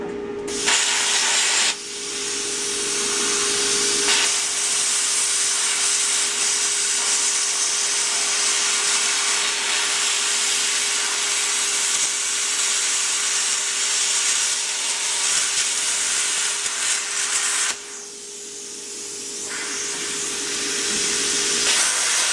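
Sawing a slice off an old piece of wood in a workshop, a continuous loud rasping and hissing cut that runs steadily for many seconds, broken briefly by a pause and a faint steady tone, with no talk.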